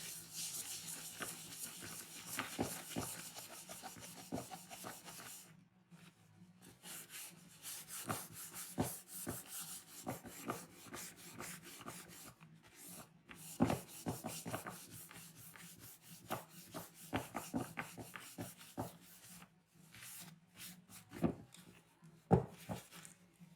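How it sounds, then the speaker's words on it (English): A cloth wipes wax off the sides and top of painted wooden furniture, giving soft, repeated rubbing strokes with brief pauses, close and fairly quiet. "So what I'm going to do is I am going to wipe the wax off."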